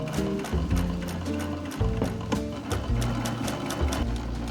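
A sewing machine stitches a repaired Chanel bag, running in short, rapid mechanical bursts with brief pauses between runs, close and clear.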